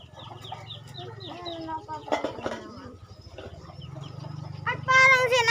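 Pigeons coo in low, throaty murmurs close by, with a few sharper calls rising near the end, while a person talks over them.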